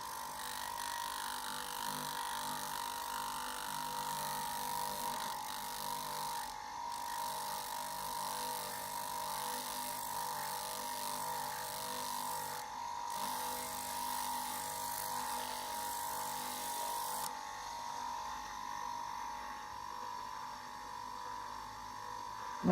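A knife blade is sanded by hand with 240-grit sandpaper, giving a continuous close scraping rasp that holds steady throughout, with two brief breaks and a slight change in tone near the end.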